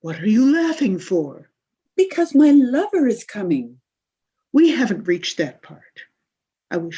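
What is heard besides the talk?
No everyday noises stand out.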